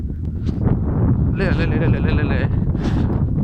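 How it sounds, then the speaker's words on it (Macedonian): Cold winter wind blasts steadily against the microphone with a heavy, rumbling roar, while a person's brief voice and a whining tone rise through it. "Ама това ветер, не знам колку ме слушате мене"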